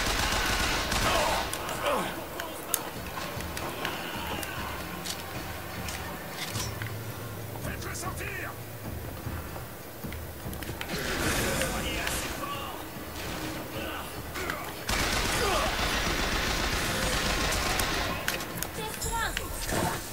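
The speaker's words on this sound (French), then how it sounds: "Mais il est où le gars qui me tire?" Dense, chaotic gunfire and volleys of shots from the video game Bioshock Infinite crackle throughout amid loud game noise, with voices speaking over the action.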